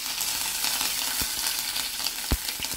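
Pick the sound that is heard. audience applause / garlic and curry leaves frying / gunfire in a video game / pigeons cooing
garlic and curry leaves frying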